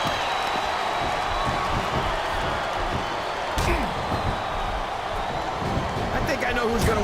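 Wrestling arena crowd cheering and roaring steadily throughout, a dense loud wall of voices with occasional slaps and thuds from the ring, no speech over it.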